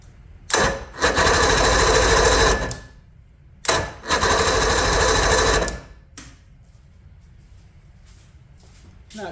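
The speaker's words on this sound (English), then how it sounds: "Let's see if it turns over okay." A 1977 Evinrude 115 HP outboard with fuel and ignition trouble cranks over in two loud bursts of about two seconds each, a rapid rhythmic starter churn that cuts off cleanly, leaving quiet afterward.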